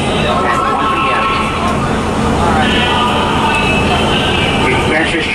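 An R32 D subway train sits at 145 St station, its loud steady rumble and motor hum filling the space while a voice speaks over it.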